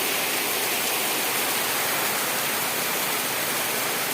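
Sudden heavy rain pours down in a dense, constant roar of broadband hiss that stays loud and even throughout, with no voices.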